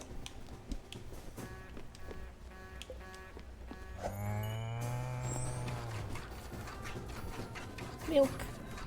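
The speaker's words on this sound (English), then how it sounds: "Make sure we feed the moo cow." A cow moos once in the cozy management game Spiritfarer, a long low call in the middle of gentle game music and sound effects, with no talking over it.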